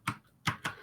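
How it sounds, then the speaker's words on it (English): Three crisp keystrokes on a high-action computer keyboard, one then a pause and two more in quick succession, close and fairly faint. "I can hear you typing"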